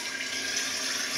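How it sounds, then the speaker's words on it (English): Water runs steadily from a drinking fountain in a building, a continuous broadband splash at even loudness through the whole short stretch with no voices. "or when you're drinking water in the water fountain"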